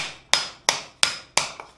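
A hammer strikes a steel coal shovel blank during forging, five sharp ringing blows at an even rhythm, loud and close, each with a brief metallic ring.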